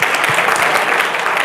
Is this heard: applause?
yes